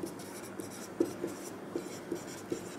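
Chalk or marker writing on a classroom board during a Class 10 physics lesson on spherical mirrors: a string of soft, evenly spaced taps and scratches, close and fairly quiet, with no talk.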